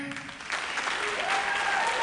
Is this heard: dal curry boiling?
no